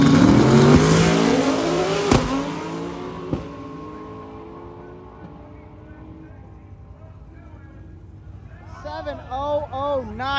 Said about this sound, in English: So the Camaro is just trying to do his best to get down.